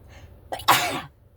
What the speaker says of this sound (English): Oh, I feel like I'm gonna sneeze